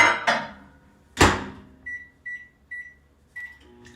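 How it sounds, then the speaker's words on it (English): A microwave oven is worked up close: door thuds and clicks, then a series of short, sharp button beeps in an irregular rhythm, with no talking. "we're going to put this in the microwave for 30 seconds"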